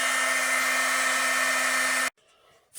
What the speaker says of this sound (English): I'm warming up the nut here with a heat gun